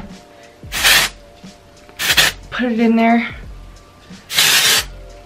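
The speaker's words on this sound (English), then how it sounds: "I'm actually gonna take a little bit of texture spray. I'm using the Oribe Dry" Oribe Dry texture spray comes out of an aerosol can onto hair in several short hissing bursts, close up, alternating with someone talking.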